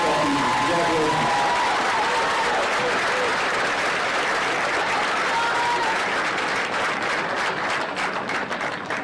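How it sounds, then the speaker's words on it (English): Loud, dense applause fills the stands at a Missouri 8-man football all-star game, a continuous roar of clapping from the crowd that holds strong for the full stretch and fades slightly at the end. "Got one more big round of applause to the Orlando Blue Jackets who is the 2018 football team."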